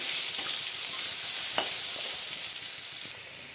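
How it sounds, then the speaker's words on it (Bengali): Tender radish frying in a pan with salt and a little sugar, a steady close hiss of sizzling oil with a few stirring scrapes, easing off near the end. "স্বাদ মতো লবণ দেবো অল্প চিনি ভালো করে ভেজে নেব"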